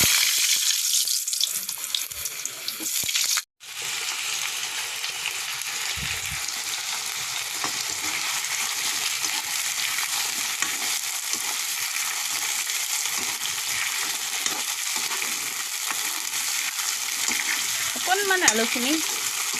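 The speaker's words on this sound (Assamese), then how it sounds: "এয়া তেল গৰম হ'ল। এতিয়া মই ইয়াত আলুখিনি দি দিছোঁ।" Potatoes dropped into hot oil over a wood fire give a continuous bright sizzle and crackle that runs steadily throughout, with a brief pause early on and faint stirring.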